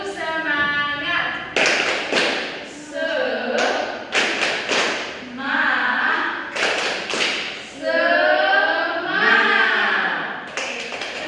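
Children clapping a spirit-clap rhythm in a primary school classroom, a run of sharp patterned claps and thumps mixed with young voices chanting and talking throughout.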